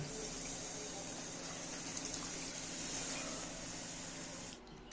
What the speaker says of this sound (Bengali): এবার দিয়ে দেব জল